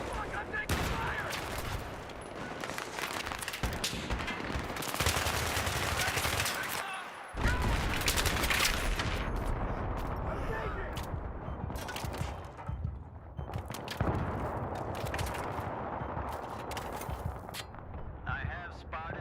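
Sustained rapid gunfire and bursts of automatic weapons fill a Battlefield 3 multiplayer battle, loud and continuous with brief lulls, over constant combat noise and a player's voice talking.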